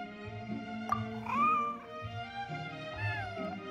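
Snowball, a white fluffy cat in Genshin Impact, gives a few short rising meows, clear and close, over soft sustained game music.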